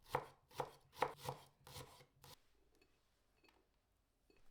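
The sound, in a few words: knife slicing a shallot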